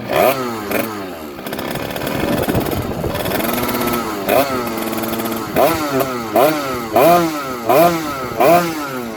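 A 2009 Rieju MRT Iron Max two-stroke motorcycle engine runs close by, buzzing and revving in repeated bursts with a rattly, raspy tone.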